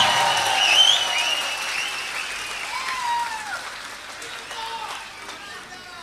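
A large audience of students applauds loudly, with whistles and voices rising over the dense clapping before it gradually tapers off.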